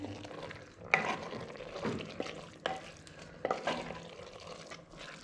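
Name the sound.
stirring boiled lentils into kabab mixture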